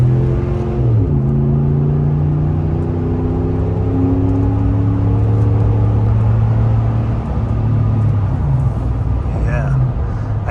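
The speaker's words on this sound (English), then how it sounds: "Yeah, I did that just so you could hear the exhaust" A RAM 1500 5.7L Hemi V8 with a Magnaflow 3-inch exhaust rumbles and climbs through gears as it accelerates, a loud, deep roar rising and shifting in pitch, heard from inside the cab.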